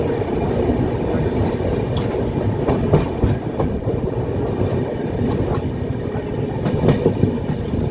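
The 12074 Janshatabdi Express runs between Kolkata and Puri, heard from inside as a loud continuous rumble of wheels on rails with rhythmic clickety-clack joints and occasional sharp knocks, no talking.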